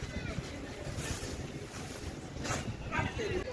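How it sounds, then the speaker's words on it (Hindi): Steady wind gusting across an open rooftop during kite flying, a continuous broadband rush with slight swells and no clear breaks. "तो हवा भी मस्त चल रही है"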